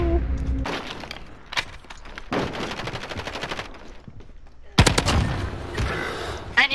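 Bursts of rapid gunfire from a PC video game crack out in several separate volleys, loud and close, with a player's voice faintly in the background.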